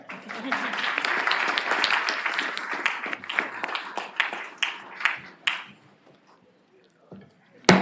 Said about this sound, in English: And so let's applaud him.